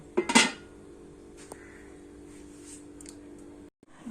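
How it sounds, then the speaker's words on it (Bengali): A metal bowl is set on a stand inside a wok over a lit gas flame and covered with a lid. There is a quick burst of clanking and rattling, then a faint low hum with one small tap, and no voices. "এবার গ্যাস জ্বালিয়ে আমরা কড়াইয়ে স্ট্যান্ড দিয়ে বাটিটাকে এইভাবে বসিয়ে চাপা ঢাকা দিয়ে দেব।"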